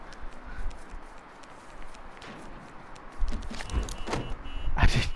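A car driving in the Saints Row video game, with a low engine rumble under faint ambient noise and a few sharper bumps or knocks building toward the end; no talking.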